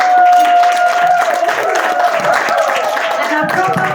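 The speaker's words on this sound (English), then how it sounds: "And a proper clapping for them" Audience clapping at a graduation ceremony, a dense wash of claps mixed with whistles and cheering voices throughout.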